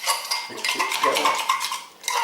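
Flour mixture being stirred in a pan for a fish Florentine sauce, close continuous scraping and swishing of a utensil against the metal, with a brief lull near the end.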